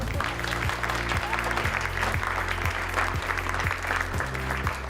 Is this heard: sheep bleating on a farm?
no